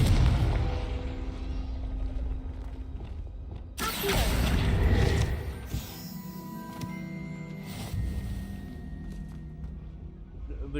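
The Confringo blasting spell in Hogwarts Legacy sets off a sudden loud burst with a crackling impact roar, set against game music and clanking mechanical effects.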